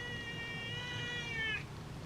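A house cat gives one drawn-out meow that ends in a short upward lilt near 1.6 seconds. It is heard close up over a steady low room hum, with no talking.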